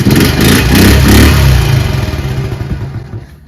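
A Honda Z50 motorcycle engine, just fitted with a new spark plug, idles loud and close with a rough, uneven chugging that fades gradually toward the end.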